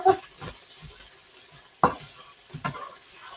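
Sugar being stirred through caramelising onions in a large frying pan, with a few intermittent scraping strokes over a soft, quiet sizzle and no talking.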